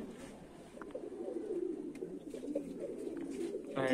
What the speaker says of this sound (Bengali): সবগুলা কবুতর আস্তে আস্তে গোসল করুক